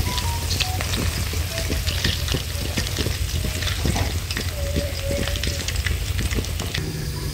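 Catfish pieces frying crisply in hot oil, with a dense, continuous close-up sizzle and crackle and occasional stirring pops throughout.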